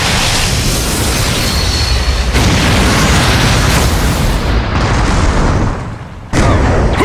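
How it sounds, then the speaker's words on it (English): An anime exploding shuriken goes off in a loud, sustained roaring blast with rumbling debris, cutting out briefly near the end before the roar resumes. "Worry about your exploding shuriken! Exploding shuriken!"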